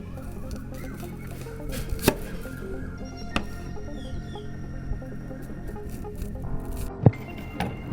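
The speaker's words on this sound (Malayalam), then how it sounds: "നമുക്ക് വേണ്ടത് സവാളയാണ് അപ്പോൾ അത് ഇതേപോലെ ഒന്ന് കട്ട് ചെയ്ത് കൊടുക്കാം" A knife chops an onion on a board, with a few sharp, separate chops spaced seconds apart over a low background hum.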